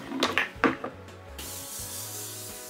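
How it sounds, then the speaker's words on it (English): Short hissing bursts of setting spray misted onto a face, a few quick pumps followed by a longer steady spray, close and fairly quiet. "I love a setting spray before highlight."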